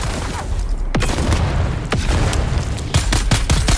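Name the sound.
grenade explosion in video game Dune Awakening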